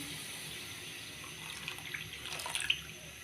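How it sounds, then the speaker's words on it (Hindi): One litre of water pours into a pan holding a kilogram of sugar, a faint, gentle stream that grows into a slightly louder splashing trickle toward the end. "और उसके साथ ही हम इसमें डालेंगे 1 लीटर पानी।"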